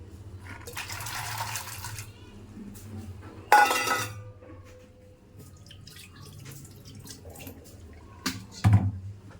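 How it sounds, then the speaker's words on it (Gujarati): Water filled into a pot for boiling, a running tap and splashing at a sink in bursts, with clatter and thuds between and stretches of quieter room sound. "હવે આમાં પાણી ભરી અને આપણે બાફવા મૂકી દઈએ એને"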